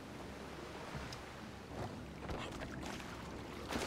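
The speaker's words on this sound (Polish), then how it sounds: "No i bierzemy sobie motorówkę." Motorboat engine and water in GTA V, a low steady rumble mixed with splashing and wind-like wash, moderately loud and continuous with no talking.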